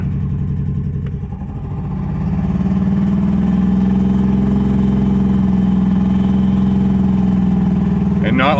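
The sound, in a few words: old minivan engine running rough after restart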